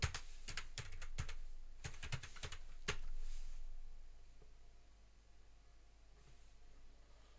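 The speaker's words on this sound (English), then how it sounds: "Click on the username, type the password." Rapid bursts of keystrokes on a computer keyboard while a password is entered to log into an Ubuntu virtual machine, clicking for about three seconds before fading into a quiet background hiss.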